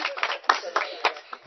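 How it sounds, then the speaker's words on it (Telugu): A group of people at a housewarming gathering claps hands in quick, uneven bursts, the applause mixed with talking voices. "చప్పట్లు కొట్టండి ఒకసారి."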